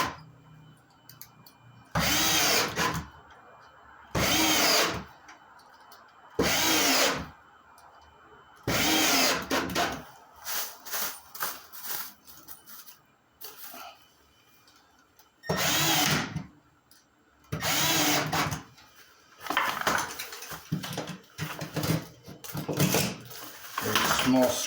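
Power drill driving screws into a washing machine drain box in a wall, several loud bursts of whirring a second or two long separated by pauses, close up, with some talk between them.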